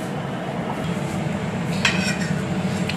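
Dishes and cutlery clink and scrape in a home kitchen as a meal of rice, mashed fish, masoor dal and egg curry is plated, with a small cluster of sharper clinks midway over steady low background noise.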